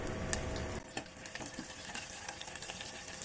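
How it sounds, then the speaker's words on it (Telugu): Cumin seeds, a little urad dal and unpeeled garlic fry in hot oil in a pan, a steady close sizzle with stirring scrapes and light clinks throughout, no voices. "జీలకర్ర, కొంచెం మినపప్పు, వెల్లుల్లి పొట్టుతో వేసుకుంటే టేస్ట్ బాగుంటుంది"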